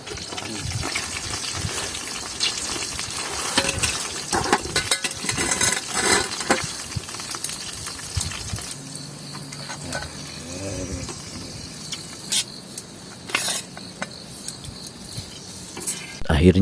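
Chicken frying in hot oil for a pre-dawn Ramadan meal at a rainy campsite, a steady close sizzle with stirring and clinks of a utensil against the pan, no talking.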